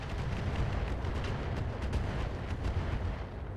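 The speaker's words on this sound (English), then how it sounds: "Nice artillery hits there overall." Artillery shells pounding a cluster of units in the mech strategy game RogueTech, a dense rumbling barrage of deep, overlapping blasts rolling on steadily at moderate volume without pause.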